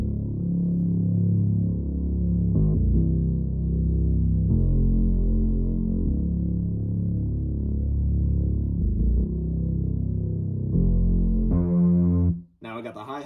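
A music beat plays with deep, heavy sub bass and filtered, throbbing synth tones, ending with a brief bright burst of sound.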